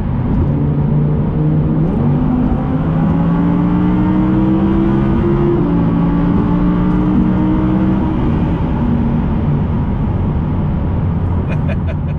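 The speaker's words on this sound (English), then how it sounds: "Let's put on the sport exhaust, and let's kick it" A 2020 Audi R8 V10 Performance engine revs and pulls hard in a tunnel with sport exhaust on, its deep exhaust note climbing and settling in pitch, loud and close, with a brief crackle near the end.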